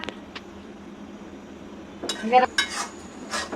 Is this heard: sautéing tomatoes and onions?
yes